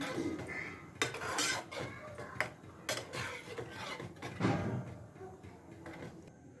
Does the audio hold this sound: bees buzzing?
no